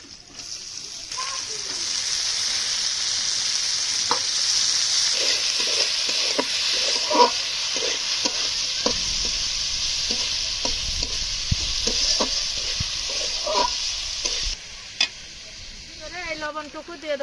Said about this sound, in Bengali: এবার আমি কুটে রাখা আলুগুলো দিয়ে দেবো।